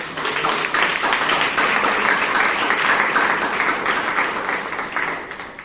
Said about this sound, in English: give a thundering round of applause